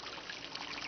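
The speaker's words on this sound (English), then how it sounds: "I hear the water." Faint, steady trickle of flowing water, a soft continuous hiss with no voices.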